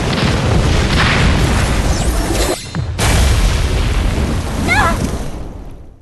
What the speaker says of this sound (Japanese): 連続一点集中爆破だ